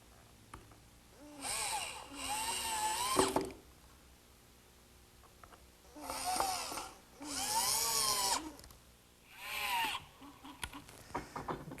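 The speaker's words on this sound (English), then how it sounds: "I'm ready to set this piece in place and fasten it to the frame with some screws" A power drill drives screws to fasten a wooden piece to a frame in a woodworking shop. Several separate whirring bursts rise in pitch as each screw seats, with quiet pauses between them and no talk.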